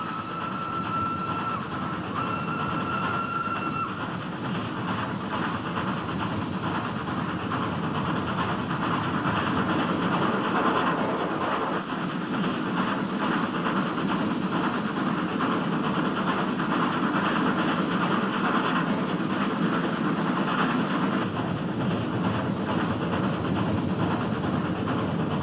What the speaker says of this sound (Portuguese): Na parte mais íngreme da descida, rodas dentadas sob o trem agarram uma grade colocada entre os dois trilhos.